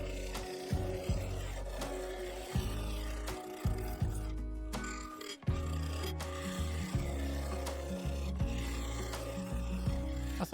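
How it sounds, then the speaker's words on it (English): A bowl gouge shear-scrapes the outer face of a shallow dish of purple epoxy resin with yew inserts on a lathe, giving a continuous rasping, rubbing scrape over a low motor hum. The scraping is close and steady, with a short lull near the middle. "So for the outer part, I switched to shear scraping with a bowl gouge."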